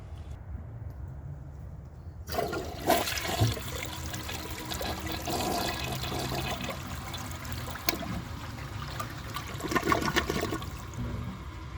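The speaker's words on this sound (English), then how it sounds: "I will show you guys a flush and then let's see how it does on tests" A 1999 Porcelamex toilet flushing: a sudden rushing surge of water after a quiet start, then a sustained gurgling drain and trickle that carries on, fairly soft and close.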